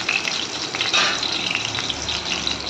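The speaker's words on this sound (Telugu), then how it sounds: "పచ్చిమిరకాయలు కొంచెం ఫ్రై అయ్యాకండి" Green chilies frying in a pan while cooking a korameenu fish dish, a steady loud sizzle and crackle with occasional stirring scrapes, continuous and close.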